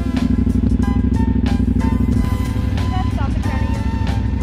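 An adventure motorcycle on a road trip thrums loudly and steadily close by, while people talk over the engine.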